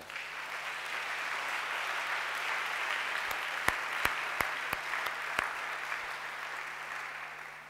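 A congregation at a church thanksgiving service applauds in a dense, sustained wash of clapping, with a few sharper individual claps standing out near the middle.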